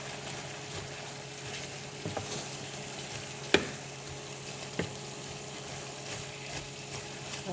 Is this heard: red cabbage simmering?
yes